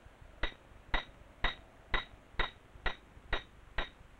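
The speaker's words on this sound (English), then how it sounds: "The lead climber's life depends on the pitons he hammers into cracks." A climber hammers steel pitons into rock cracks, eight sharp metallic strikes ringing out at an even half-second rhythm, each with a short clinking decay, close and isolated against a quiet background.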